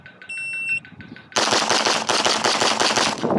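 Rapid gunshots fired in quick succession during a target transition shooting drill, loud and close, with a shot timer's beeps at the start before the volley.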